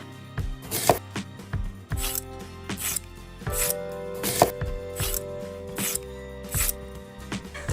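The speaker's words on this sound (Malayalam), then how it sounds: "ഇനി നമുക്ക് ആവശ്യമായ പഴം കട്ട് ചെയ്തെടുക്കാം." Two medium nendran bananas being cut with a knife, a run of sharp separate cuts and scrapes against a board at an uneven pace, close up with a faint tonal hum underneath and no talk.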